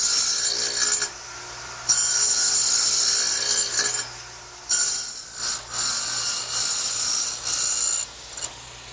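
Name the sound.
radial arm saw with dado blade cutting wood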